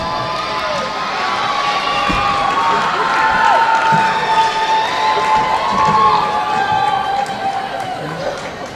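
A crowd cheers and shouts in a gym during a high school homecoming basketball game, a loud sustained roar with squeaking sneakers and voices mixed in.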